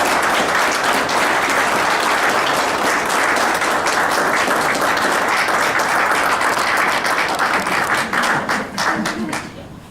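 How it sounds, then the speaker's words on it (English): An indoor audience at a council meeting gives a dense, steady round of applause for a state-competition dance team award, with the clapping sustained for nearly ten seconds before it begins to thin out. "give them a great round of applause"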